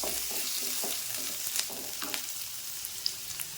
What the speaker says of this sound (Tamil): வடச்சட்டி வச்சு எண்ணெய் ஊற்றி வெங்காயம் போட்டு வளர்க்க வேண்டியதுதான்.